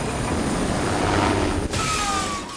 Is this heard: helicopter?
yes